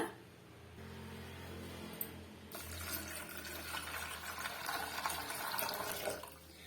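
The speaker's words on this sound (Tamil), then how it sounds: "முந்திரி பருப்பு முங்குற அளவுக்கு நம்ம தண்ணி சேர்த்துக்கலாங்க" Water pours steadily into a mixing bowl of cashew nuts in a home kitchen, a close, continuous splashing stream that grows fuller as the bowl fills.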